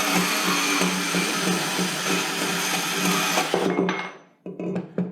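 A Milwaukee M12 Fuel sub-compact band saw cuts through 1.5-inch EMT pipe with a loud, steady, close-up whine that ends abruptly as the cut finishes, followed by a few clunks.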